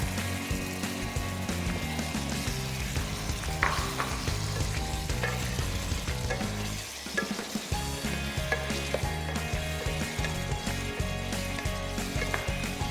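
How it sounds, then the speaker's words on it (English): Australian lamb cooking in a pot for lamb soup, with a continuous loud sizzle and frying crackle, repeated stirring and utensil knocks, and a brief dip partway through. "So we're going to put our Australian lamb inside the pot, yeah?"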